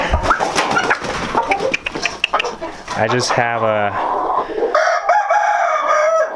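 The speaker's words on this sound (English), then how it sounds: "some Henny jungle fowl, just some young roosters, 3 young rooster and Henny jungle fowls and red jungle fowls." Young roosters, Henny and red jungle fowl crow in long drawn calls and cluck, loud and close, with a person talking over them at the start.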